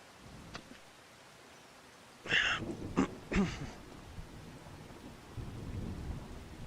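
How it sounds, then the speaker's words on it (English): A thunderstorm in the video game 7 Days to Die, steady rain hiss broken by a sudden burst of cracking thunder with a rolling rumble, then continuing rain. "Whoa, Walter, you're standing out in the rain? What the hell, dude? You usually disappear. Oh. Oh. That's not just rain, is it?"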